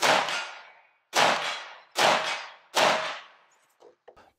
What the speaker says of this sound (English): Sounds great with subsonics and the SLH suppressor.